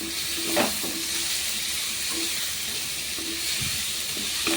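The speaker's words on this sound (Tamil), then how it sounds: "நம்ம வதக்கிக்கலாம்" Banana flower sautés in a pan for a curry, giving a continuous close hiss and sizzle with a few soft spoon knocks and scrapes scattered through the short stretch.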